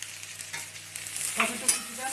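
Chopped tomato hitting hot oil in a pan for aloo potol curry, a steady close sizzle with a brief stirring scrape near the end.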